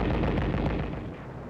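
WWII artillery and mortar fire from 155mm guns during fighting on Angaur, a loud, dense rumbling barrage of heavy blasts that fades slightly toward the end, with no voices.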